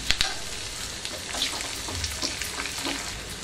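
Cashews and curry leaves fry in oil with green chili and ginger for rava pongal, a close, continuous sizzle with scattered crackles and pops and no talking.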